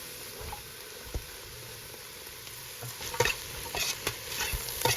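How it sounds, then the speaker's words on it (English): Carrots go into a hot pan for a bread soup, giving a steady low sizzle with scattered clicks and scrapes as they are stirred, growing slightly busier toward the end. "Let's add our carrots."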